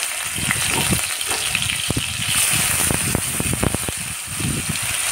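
Ginger paste sizzles in two spoons of hot oil while a vegetarian banana-flower dalna is being cooked, a steady close hiss with small crackles throughout and no talking.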